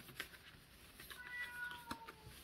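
A domestic cat meows indoors, a few short, moderately loud calls spaced out over quiet room tone.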